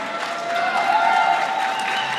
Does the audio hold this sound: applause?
yes